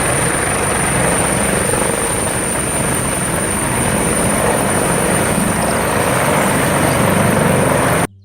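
A toy helicopter whirs steadily and loudly up close, a continuous dense buzzing drone with a thin high whine on top, cutting off abruptly at the end.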